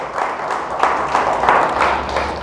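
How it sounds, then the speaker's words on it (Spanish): A church congregation applauds together, a sustained burst of clapping with a loosely rhythmic pulse, fairly loud and close, with no speech over it. "Dele fuerte el aplauso al Señor."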